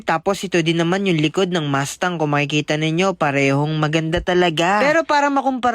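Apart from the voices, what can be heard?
None of the usual background noises is heard.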